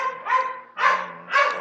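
Pet dog barking in a room behind a person speaking, three close, fairly loud bursts of barking spaced about half a second apart.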